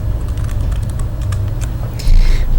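Fast keyboard typing while entering set-builder and interval notation into a table, steady clicks over a low background hum, getting a bit louder near the end.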